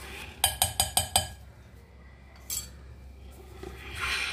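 A metal spoon stirs fish pieces in flour batter in a bowl, opening with a quick series of five sharp clinks against the bowl, followed by softer scraping and a few faint knocks, no voices.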